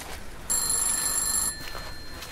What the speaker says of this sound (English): There's a phone ringing somewhere.